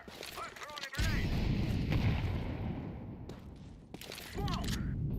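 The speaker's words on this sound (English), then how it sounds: "I'm throwing a grenade." A grenade blast followed by sustained gunfire in a video game, a loud booming burst after a quiet moment, then dense continuous rumbling fire with a second surge near the end.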